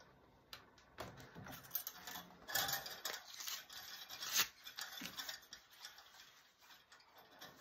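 Hat hoop being unclipped and removed from an embroidery machine after stitching the side of a visor, with close rubbing, clicking and ratcheting mechanical sounds in irregular bursts.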